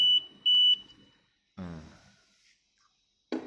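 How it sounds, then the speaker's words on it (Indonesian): A high electronic buzzer on a Smart Scale Type 11 digital scale sounds in short bursts while a load is on it, close and loud, then falls silent while someone breathes and makes a soft sigh. "Selama beban ada di timbangan, maka buzzer akan berbunyi."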